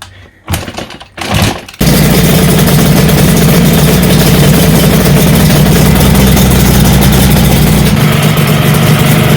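A Suzuki RG500 motorcycle engine fitted with Sugaya exhausts. After a few short cranking attempts it catches and runs loud and steady, a raw, continuous buzz that carries close to the end of the clip.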